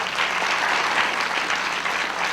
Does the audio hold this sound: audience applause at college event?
yes